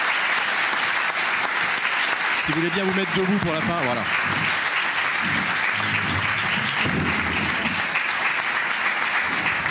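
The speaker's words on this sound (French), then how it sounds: "qu'on les applaudisse très chaleureusement pour le temps qu'ils ont donné" A conference audience applauds the guest speakers at a public talk on the coronavirus, with dense clapping sustained throughout while someone speaks over it.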